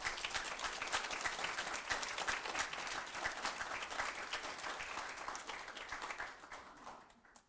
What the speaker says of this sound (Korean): 여러분 큰 박수로 김명자 유공자님을 맞이해 주시기 바랍니다.